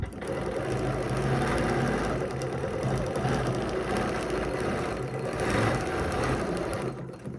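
A sewing machine runs steadily while stitching a quilt with a ruler foot, a dense continuous mechanical whir that holds a constant level for several seconds and then eases off near the end.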